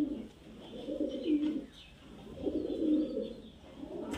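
A female Giribaz pigeon coos close by in two long, rolling phrases with a third beginning, alone with no talk.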